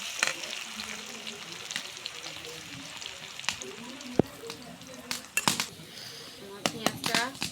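Onions with a pinch of cumin frying in a pan, a steady soft sizzle running throughout at moderate distance, broken by occasional clinks and stirring scrapes.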